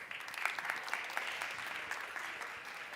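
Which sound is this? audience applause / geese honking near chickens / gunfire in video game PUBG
audience applause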